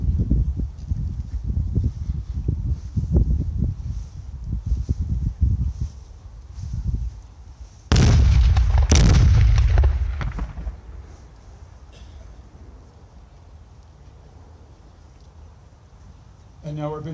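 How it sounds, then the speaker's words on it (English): An artillery salute fires at a Presidents Day cemetery ceremony, with two heavy, loud booms in quick succession partway through. An announcer speaks over open-air ambience beforehand, and the area goes quieter afterward. "Our artillery salute"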